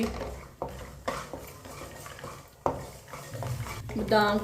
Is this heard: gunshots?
no